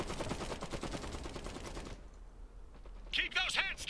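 Blaster gunfire in a Star Wars video game battle, with dense volleys of rapid shots under loud battlefield chatter, then a quieter stretch broken by sharp, ringing bursts near the end.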